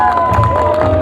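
An audience at a televised event cheers and claps in a brief, dense burst of crowd noise, loud and continuous throughout.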